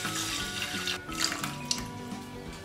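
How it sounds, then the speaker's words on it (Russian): Water and milk poured into a pot of washed millet, a continuous close splashing trickle with small plops, over a steady background hum. "В равных пропорциях вливаем воду и молоко."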